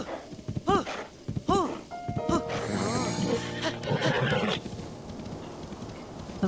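Horse neighing in the video game Zelda: Breath of the Wild: two sharp whinnies close together, then a longer, busier stretch of game sound with a voice talking over it.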